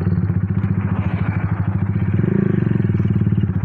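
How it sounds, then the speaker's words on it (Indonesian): A Honda CB Tiger 200cc motorcycle fitted with a dos exhaust idles and revs, giving a loud, deep, rapid thumping burble close by, swelling briefly midway, with no talking. "Nah suaranya ini pakai knalpot dos ya"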